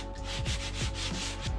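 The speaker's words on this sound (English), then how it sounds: "A little bit of hand sanding and it will be as good as new." Hand sanding an old handmade wooden bookshelf: rhythmic back-and-forth rubbing strokes of sandpaper on wood, close and quiet, about five or six strokes in a steady pattern.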